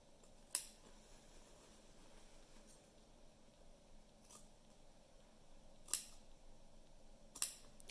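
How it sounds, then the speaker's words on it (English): Scissors cut fabric along a stitch line for a welt pocket, producing a few faint, separate snips spaced seconds apart over a quiet background. "Now I'm just going to go ahead and cut the other side."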